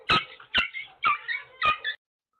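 A dog's squeaky toy gives four sharp, high-pitched squeaks, close and evenly spaced, each with a short trailing whine, followed by silence.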